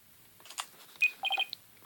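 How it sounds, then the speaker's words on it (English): A phone ringtone in the Phoenix Wright: Ace Attorney video game sounds as a few short, bright electronic chirps and beeps in quick succession, fairly faint, with soft clicks between them. "That is ringtone."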